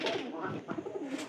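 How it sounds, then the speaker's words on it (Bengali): Pigeons cooing at night in a village loft, soft low throaty coos repeating close by at a faint level, with no talking. "আজকে রাতের বেলা আমি কবুতরগুলা ফিক দিতে আসলাম"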